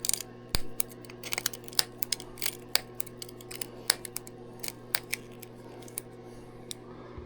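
Blunt scissors cut in irregular sharp snips and clicks, close up over a faint steady hum, with no talking.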